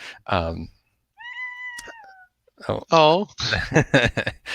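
A house cat meows in a short, clear, rising-falling call, between bursts of someone talking close by.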